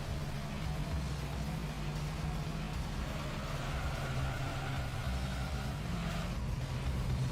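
Steady car engine drone from the Gran Turismo 3 racing game, a continuous mid-level hum with low harmonic bands holding throughout, no voices over it.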